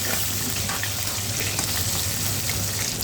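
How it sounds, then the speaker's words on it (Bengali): Tengra fish fry in hot oil in a kadai, with a dense, steady sizzle and crackle that continues without a break and without any voices. "এদিকে কড়াইতে তেল দিয়ে দিয়েছি এখন আমি ট্যাংরা মাছগুলো ভেজে নেব"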